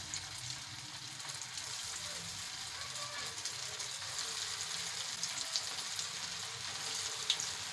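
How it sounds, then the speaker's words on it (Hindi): Potato balls shallow-frying in hot oil in a home kitchen, giving a steady, soft, close sizzle with a faint spoon stir now and then, and no voices over it. "अब इनको हम फ्राई कर लेते हैं।"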